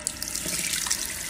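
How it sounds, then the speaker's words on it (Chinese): Water pours steadily from a faucet with its mixing valve opened only halfway, a continuous close splashing into a sink with no voices over it. "试一下这个水龙头"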